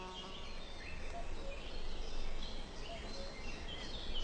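Guard bees bustle at the hive entrance, a dense continuous buzzing drone with shifting wingbeat tones, close and steady for the whole stretch, no voices.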